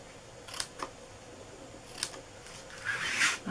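Scissors cut a paper favor box, a few quick separate snips close by, followed by a rustling, slightly longer cut near the end.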